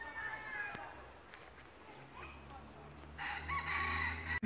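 Roosters crow and hens cluck among the small corners of a city park, moderately distant, with a louder burst of calling near the end against quiet outdoor ambience.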